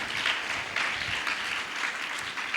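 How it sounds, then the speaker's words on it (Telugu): A church congregation claps continuously in praise of the Lord, producing a dense, steady wash of applause from many hands at even loudness. "నా మాట అర్థమైన వాళ్ళు చప్పట్లు కొట్టి ప్రభువుని మహింపరచండి"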